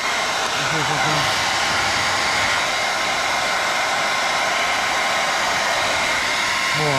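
A heat gun blows hot air over tint film on the rear light of an EP3 car, a steady, close, loud whooshing drone that runs unbroken with no talk.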